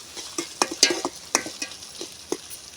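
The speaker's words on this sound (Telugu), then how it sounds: "ఉల్లిపాయలు అయితే బాగా మగ్గుతున్నాయండి." Onions cook with ginger paste in a pan, a soft sizzle under irregular scraping and stirring knocks from a utensil against the pan, close by with no talking.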